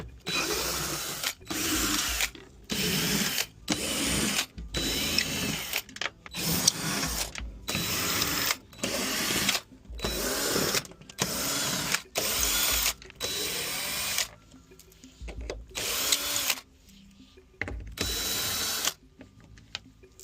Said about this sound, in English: after removing about a dozen torque screws, the panel pops right off